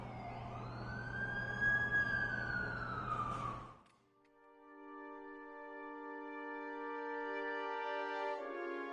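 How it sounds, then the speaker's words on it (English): Ambulance siren in The Amazing Spider-Man 2 video game, a loud wailing sweep that rises and falls over engine rumble, then cuts to a sustained steady electronic tone. "That's the ambulance I called."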